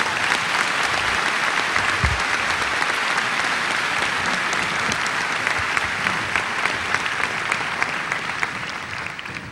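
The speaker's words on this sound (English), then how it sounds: "Please give them a round of applause." An audience at a high school graduation ceremony claps in a long, even round of applause, thick and continuous throughout with no voices over it.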